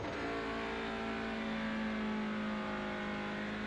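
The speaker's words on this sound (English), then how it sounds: "as I let the clutch out, you're going to hear the engine note change" Simulated TCR touring race car in iRacing holds a steady, high-revving engine drone at a standing start, the tone shifting slightly as the clutch engages; fairly quiet overall and without speech.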